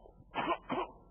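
A man imitates coughing and throat clearing with his voice, making two short, harsh hacking bursts in quick succession.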